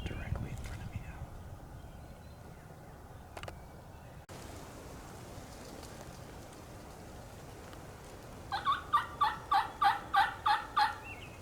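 Wild turkey hens in a field give a run of about eight loud, rhythmic yelps near the end, close by, following a long quiet stretch with faint whispering.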